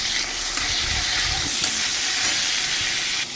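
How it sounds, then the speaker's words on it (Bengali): Tomatoes with green chili and black cumin frying in a pan over raised heat, a steady dense sizzle and hiss running continuously without talk. "এবার এটাকে একটু ভালো করে ভাজা ভাজা করে নেব"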